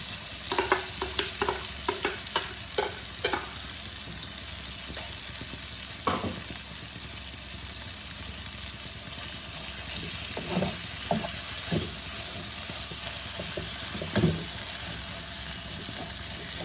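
A boiled potato and cauliflower mixture is stirred into a sizzling pan. A steady hiss runs under a quick series of scraping spatula strokes, sparser later on.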